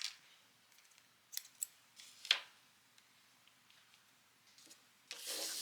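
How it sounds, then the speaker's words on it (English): Scissors snip crochet yarn in a quiet room, with a few soft, close cuts and light rubbing, then a brief louder rustle at the end. "cut your yarn"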